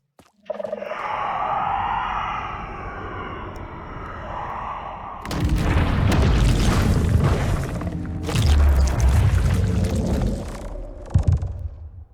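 In Minecraft, the Warden is summoned: a synthetic droning tone gives way to deep, rumbling booms and crashing impacts that swell loudly, then fade to quieter rumbles.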